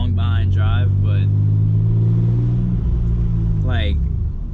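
A 16,000-mile Nissan 300ZX Z31 drives along, its engine a loud steady low drone with rising and falling pitch, under someone talking at the start and again near the end.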